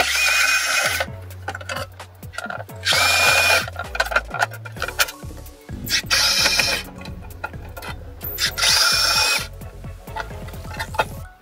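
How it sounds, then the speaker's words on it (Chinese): Power drill backing out screws that hold a car stereo head unit, repeated whirring motor bursts of a few seconds each separated by short pauses and small clicks, close and loud with no talk. "固定在主机上的螺丝拆下来。"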